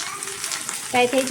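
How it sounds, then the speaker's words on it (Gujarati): Steady sizzling of okra frying in oil, with a brief tonal sound near the end, close and moderately loud. "સૌથી પહેલાં ભીંડાને તેલમાં ફ્રાય કરવા રાખી દીધું છે."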